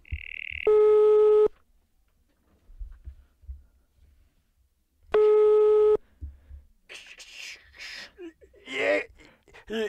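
A telephone line gives two long, loud ringback tones several seconds apart, close and clean against near-silence, and then a voice answers and talks toward the end.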